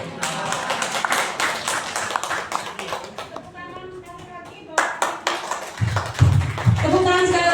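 An audience at a PJOK teacher training presentation gives a burst of hand clapping for the speaker, fading as a voice talks over the room and further sporadic claps follow.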